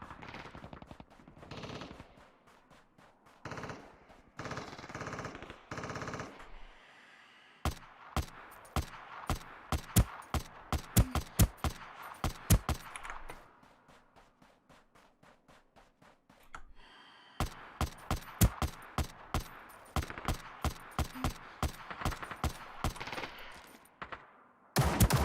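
AK rifle fire in a video game, crackling out in rapid bursts of sharp shots across two long volleys separated by a quieter stretch, loud and close with no talk.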